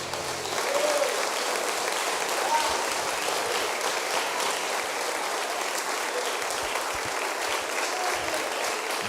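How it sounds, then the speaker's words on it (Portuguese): A church congregation claps steadily and loudly throughout a worship service, a dense, sustained applause with faint voices underneath. "Palmas para Jesus!"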